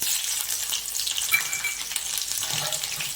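Green chilli dropped into hot oil already tempered with mustard seeds, cumin, cinnamon, cloves, bay leaf and curry leaves for Kathiyawadi kadhi, sizzling and crackling steadily at close range with no talking.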